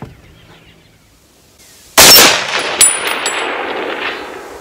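A single loud .30-06 AR rifle shot cracks close by at an outdoor range, followed moments later by a faint ringing clang of the bullet striking a distant steel target, then a lingering decay.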